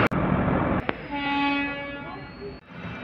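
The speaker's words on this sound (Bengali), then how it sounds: "ফাইনালি মহারাডাঙ্গা স্টেশন থেকে ট্রেন আমাদের ছেড়ে দিল" A DMU train sounds a long, loud horn blast as it pulls out of Maharadanga station, opening with sharp knocks and ending with a sudden drop to quiet.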